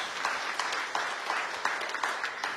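A church congregation applauds together, a steady wash of many hands clapping with periodic swells, moderately loud and continuous with no talk over it.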